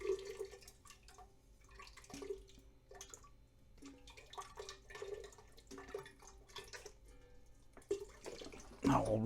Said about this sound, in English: Now we'll rinse the quarted gold off with some distilled water.